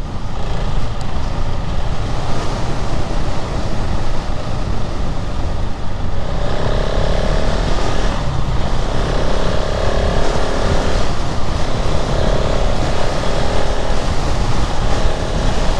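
A KTM 690 Enduro R motorcycle rides at 100 km/h in a strong side wind, with loud, constant wind buffeting blending into the engine drone and rushing air throughout.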